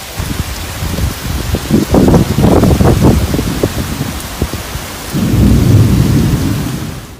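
Heavy rain and rolling thunder during a flash flood in the Gard region near Montpellier, France: loud, dense downpour with repeated deep thunder rumbles and cracks, swelling again toward the end, with no voices.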